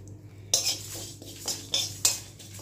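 Coriander seeds, cumin and ajwain being dry roasted in a pan, with a utensil scraping and clinking against the metal in a few sharp strokes over a low steady hum.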